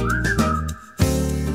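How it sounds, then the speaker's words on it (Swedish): A melodic whistle carries the tune of a Swedish Pinocchio song, a sliding whistled line over bouncy accompaniment, followed by a brief pause before the music picks back up. "ska du bara vissla, ska du bara vissla"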